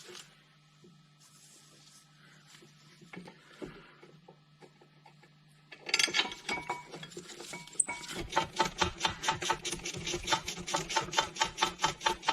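A ratchet tightens the caliper carrier bolts on a Vauxhall Astra H front brake: quiet at first, then a close run of fast, even, repeated clicks that carries on to the end.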